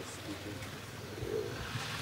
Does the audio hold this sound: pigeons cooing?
yes